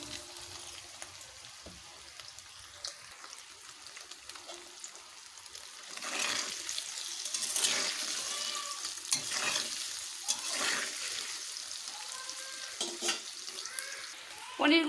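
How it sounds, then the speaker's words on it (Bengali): Salted paneer pieces fry in hot oil in a pan with a continuous crackling sizzle, swelling louder midway as the pieces are stirred and turned, with occasional sharper pops. "পনিরটাকে ভেজে নেব।"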